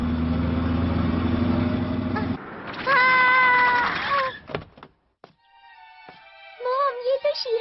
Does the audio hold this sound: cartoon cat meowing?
yes